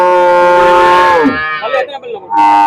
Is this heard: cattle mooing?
yes